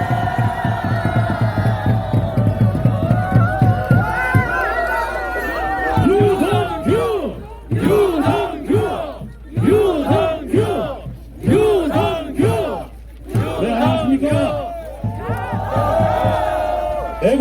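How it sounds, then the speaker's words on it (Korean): A large crowd at an anti-impeachment political rally in Pohang roars and cheers loudly in repeated rhythmic bursts, voices swelling and dropping as the shouting goes on. "유동규 대표를 모시기 큰 박수로 맞이했습니다."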